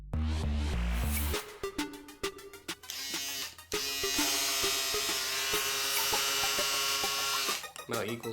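A reassembled Wahl 5 Star electric shaver buzzes with a steady high-pitched whine, cut by brief stops and restarts, with talking in between.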